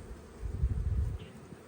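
A low, close buzzing of honey bees around a hive swells briefly, a dense insect hum that fades after a moment.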